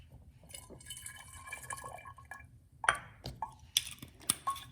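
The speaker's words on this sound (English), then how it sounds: "we use a 1/4 cup of balsamic vinegar, which we add to our teaspoon of salt" Balsamic vinegar is poured into a measuring cup, a soft trickle of liquid followed by a few quiet clinks of glass, with low background hum.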